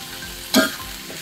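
Rice noodles stir-fried with bell pepper and a splash of water give a steady close sizzle, with one brief louder hiss of stirring midway.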